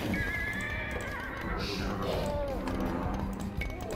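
Horses neighing and whinnying in the Age of Empires 2 video game, several calls heard one after another over a busy game soundscape, with people talking over it.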